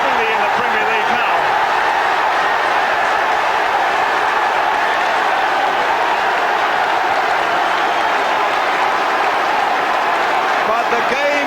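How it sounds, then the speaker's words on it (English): A large football crowd at a 1991/92 West Ham versus Cambridge match roars continuously as fans invade the pitch, a dense, loud wash of cheering and scattered applause that holds steady throughout. "The crowd have invaded the pitch illegally"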